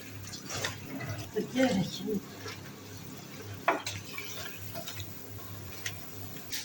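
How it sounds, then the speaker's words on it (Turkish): Running tap water splashes into a sink as curly lettuce leaves are washed for çiğ köfte, a steady close flow broken by soft rustles and splashes as leaves are handled, with a faint low hum beneath. "Şimdi çiğ köftemiz için kıvırcıklarımızı yıkayacağız."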